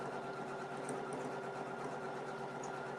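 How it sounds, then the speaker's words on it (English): An embroidery sewing machine stitching out a cat patch, running over thick existing stitches with a steady, dense mechanical whir and buzz, continuous and close, with no talking. "It's stitching over some thick stitches now, making some weird noise."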